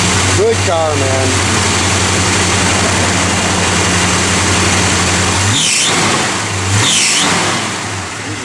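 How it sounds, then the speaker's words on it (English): A 1972 Plymouth Road Runner engine idles with a loud, steady, close rumble, then is revved hard in two sweeping surges toward the end. "He's revving the heck out of it."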